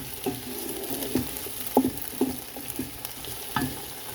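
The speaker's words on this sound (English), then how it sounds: "I add in my celery and onions. You want to saute them down until they get a little al dente." Celery and onions sauté in a pan for a pot pie filling, giving a steady close sizzle broken by irregular scrapes and taps of a stirring utensil.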